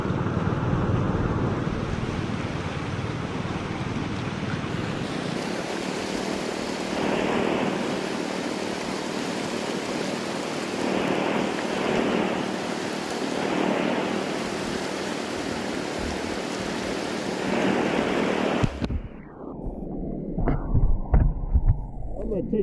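Rushing stream water at a Colorado gold highbanking spot, a loud, continuous broadband rush close by that cuts off abruptly near the end, followed by quieter scattered splashes and handling noises.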